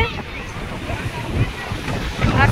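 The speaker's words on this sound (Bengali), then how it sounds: "বিশাল বড় বড় ঢেউ আসছে" Large ocean waves break and surge on the beach at Puri, a steady broad roar with swells rising near the end, mixed with wind buffeting the microphone.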